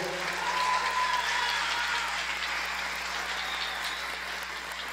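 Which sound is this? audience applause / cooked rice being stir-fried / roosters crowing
audience applause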